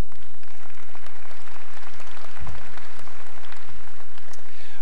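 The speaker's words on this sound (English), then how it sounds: "So let's give them a nice round of applause." Spectators at a Brown Swiss cattle show applaud the junior champion heifers, loud sustained clapping from a large crowd with a couple of low thumps partway through.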